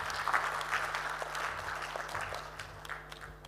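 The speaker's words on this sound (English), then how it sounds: "Can we please give him another round of applause as he comes down?" Audience applause at the launch of Uganda's National ICT Job Fair 2022, moderate clapping from a hall crowd over a low steady hum, gradually thinning out.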